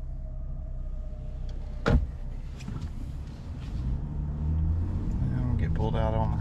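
A 2025 Ram 1500 RHO pickup truck starts up: a sharp click, a short pause, then the engine catches and settles into a rising, steady idle rumble that fills the rest of the clip.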